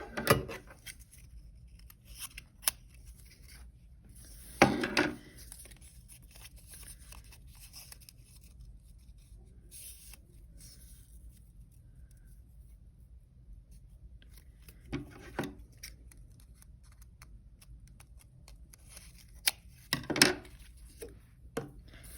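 Scissors snip through folded strips of paper in a handful of separate bursts of crisp cutting and rustling, spaced out across a quiet stretch with no talk.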